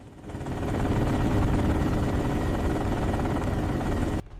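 A small aircraft approaches a crowded aircraft carrier, its steady, loud rotor-like drone holding close for about four seconds before cutting off sharply.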